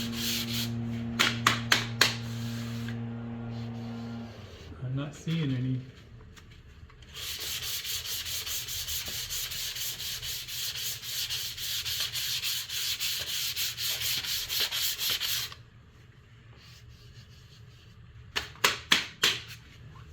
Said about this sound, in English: I'm not using a lot of pressure. I'm just lightly sanding.